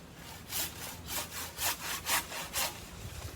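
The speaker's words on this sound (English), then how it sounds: "Let's set the handsaw and saw off the little fluffy bits." A handsaw cuts small pine branches in quick back-and-forth strokes, about seven rasping pulls in a steady rhythm, close and moderately loud with no voices.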